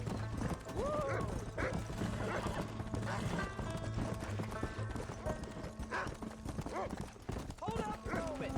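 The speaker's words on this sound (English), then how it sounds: "John and Paul, my horse isn't fast enough." Hooves clip-clopping in a fast gallop across the ground in the video game Red Dead Redemption, with a horse whinnying and neighing over a rhythmic drumming of hoofbeats, while voices talk over it.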